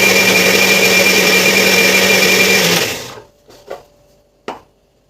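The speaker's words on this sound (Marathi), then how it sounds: "परत परत आपल्याला मिक्सरनं बारीक करून घ्यायचं आहे" A kitchen mixer grinder whirs loudly and steadily as it purees raw green mango pulp, then cuts off abruptly, followed by a couple of soft knocks and clatters of the jar.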